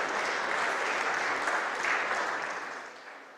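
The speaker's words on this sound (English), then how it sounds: "we need to give them a big round of applause to the referees" Dense, sustained applause from the crowd at the opening ceremony of an under-23 world squash championship, honouring the referees; a loud, even roar of clapping that eases off slightly toward the end.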